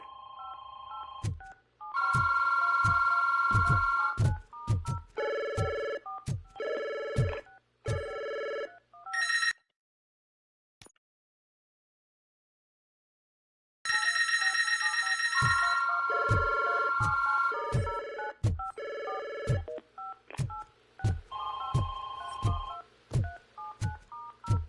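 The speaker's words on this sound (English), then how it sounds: "No phone for me to answer." An in-game telephone rings repeatedly in the Robocop Rogue City video game, with evenly spaced electronic trills that stop for several seconds of silence, then resume in the same steady pattern, loud and alone.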